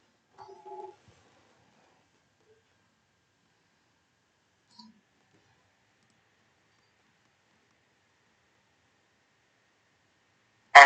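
Telephone keypad DTMF tones dial star one on a webinar call line, two short beeps close together in near silence, followed later by a faint click and a brief burst at the end.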